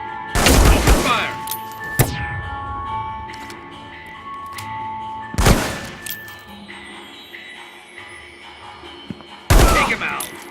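Three loud bursts of gunfire in the Reservoir Dogs video game, widely spaced, each a sharp crack with a ringing tail, separated by quieter game ambience.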